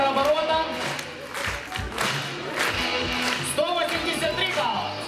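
Applause rises from a crowd at an awards event, scattered clapping running throughout at moderate volume with a voice speaking over it.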